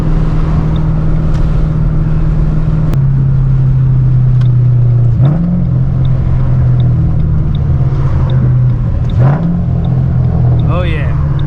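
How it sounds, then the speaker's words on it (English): Ford Mustang GT V8 engine rumbling steadily while driving, a continuous low drone with a few rising revs and pitch shifts, close and loud throughout. "Man, I love the sound of this car."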